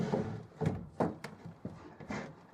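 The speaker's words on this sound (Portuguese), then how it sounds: "ao deslizar a gaveta final" Wooden drawer sliding shut in a restored mid-century modern sideboard, a series of soft scraping and knocking bumps as it moves along its runners, close and fairly quiet.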